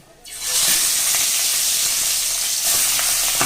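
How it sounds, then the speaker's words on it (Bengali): Rohu fish heads frying in a pan of hot oil, a steady loud sizzle and hiss that bursts in after a brief quiet start and continues with small pops and spatters, no talking. "তেল গরম হয়ে গেছে মাছের মাথাগুলো ভেজে নিই"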